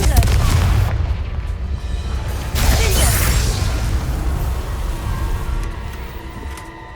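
A Confringo fire-spell explosion in Hogwarts Legacy, a booming blast that erupts around the third second over a rumbling background before dying away into a softer lingering roar.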